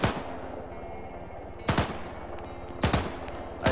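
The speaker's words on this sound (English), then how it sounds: "Enemy fire close, take cover." Gunfire in a military video game during a mosque defense match, with several loud, close bursts of rapid shots recurring every second or so over a steady background rumble.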